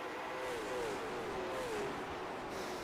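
Race car accelerating hard off a green-flag start at Nashville Fairgrounds Speedway, a steady loud engine roar with a rising and falling tone throughout, no talk over it.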